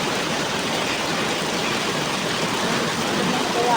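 A sudden heavy tropical downpour pours steadily outdoors among garden plants, a dense loud roar of rain that holds unbroken and alone throughout.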